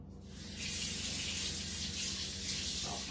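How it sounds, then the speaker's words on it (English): Potatoes rinsed under a running kitchen faucet, a steady gush of water splashing close and loud, starting softer then filling out into an even, continuous stream. "So I'm going to rinse off my potatoes here real quick."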